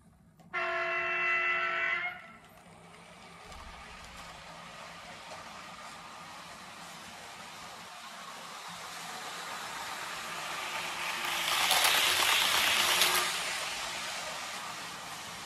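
ICE train pulling into a station in a railway video game: a brief horn-like tone at the start, then a steady rumbling roll that swells to a louder passage near the end as the train comes in.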